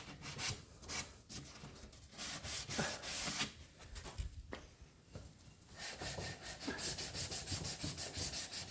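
Hand sanding of a wooden vanity dresser with a rolled-up sheet of 100 grit sandpaper, giving steady rhythmic scratchy rubbing strokes up close, repeated back and forth without talk.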